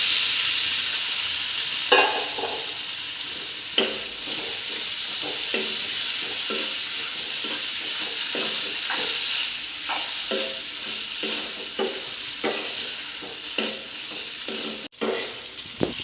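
Maggi instant noodles sizzle and fry in a pan with an egg, stirred with steady scraping strokes of a utensil; a continuous close hiss runs throughout, broken by regular stirring scrapes.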